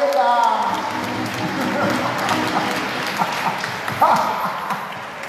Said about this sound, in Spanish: Otro aplauso a mis caros